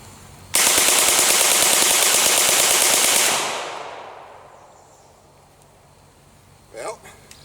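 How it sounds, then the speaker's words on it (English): A Ruger MP-9 submachine gun empties its magazine in one continuous full-auto burst of about three seconds, loud and close, then the echo fades away. "Now we'll do a mag dump."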